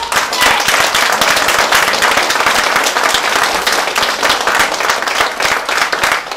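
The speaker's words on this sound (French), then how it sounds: "Applaudissons-la encore, s'il vous plaît." An audience at a Fête de la Musique gathering claps loudly and continuously after a speech, a dense, close, crackling wash of hands that holds steady throughout.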